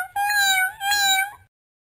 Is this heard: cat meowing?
yes